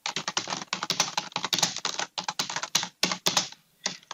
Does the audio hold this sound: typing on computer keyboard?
yes